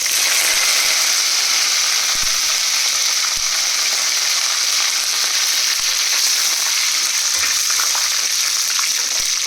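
Curry leaves dropped into hot oil for vangi bath give a loud, steady frying sizzle that hisses on without a break, with faint crackles scattered through it and no talking.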